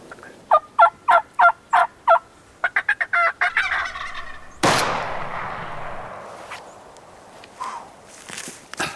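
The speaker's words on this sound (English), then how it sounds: "Look at all them turkeys, boy." A wild Merriam's turkey gobbles loudly and rapidly on a mountaintop, answered by more gobbling, then a single loud gunshot rings out and echoes away, followed by faint distant gobbles.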